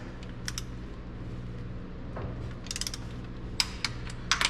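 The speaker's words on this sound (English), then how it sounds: "we need to go ahead and torque these to 26 foot-pounds" Ratcheting and clicking from a torque wrench tightening transmission bolts to 26 foot-pounds during a 4L80E transmission swap on a Sierra or Silverado pickup, several short clustered clicks near and moderately loud over a low steady background hum.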